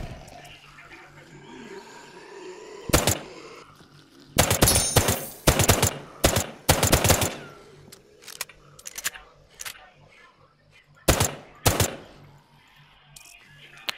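Gunfire from a weapon in the video game OutlawZ at an airport map: several sharp isolated shots, then a dense cluster of rapid bursts, then a couple more shots, with quiet gaps between.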